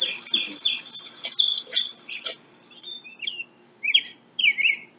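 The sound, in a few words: merle (American robin) calling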